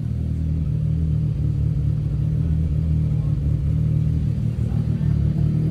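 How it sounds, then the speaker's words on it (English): A Nissan SR engine fitted with 270 cams idles in a Datsun 510 with a lumpy, choppy low rumble, loud and steady from start to finish with nobody talking. "Some SR noise with some 270 cams."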